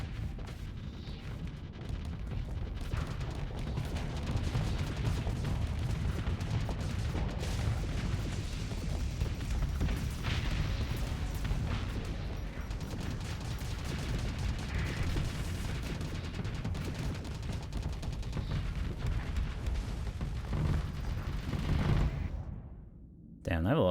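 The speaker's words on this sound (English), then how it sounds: "That's a lot of missiles." Missiles and weapons fire in a Starsector space battle crackle as dense, continuous explosive bursts and booms, layered in a constant barrage, with a voice talking over part of it.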